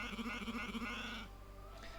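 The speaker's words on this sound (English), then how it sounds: "Just look at that sheep." Sheep bleating in Age of Empires 3: Definitive Edition, a wavering, repeated cry held for over a second, then a short fainter bleat near the end, with no talk over it.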